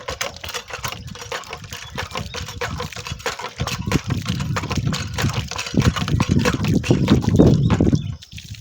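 Cold water gushing from a village hand pump, a steady broadband splashing and gurgling that builds louder toward the end, with rhythmic pumping pulses and no speech.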